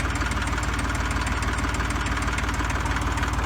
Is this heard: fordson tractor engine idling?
yes